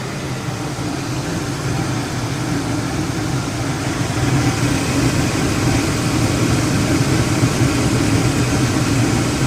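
Carrier Weathermaker 8000 gas furnace with its blower running: a steady, broad whooshing hum with a low engine-like rumble, slightly louder partway through, with no talking.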